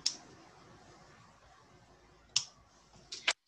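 Scissors snipping beading thread while making a pendant charm, a few sharp, close clicks, one near the start and a quick cluster of two or three near the end, with quiet between.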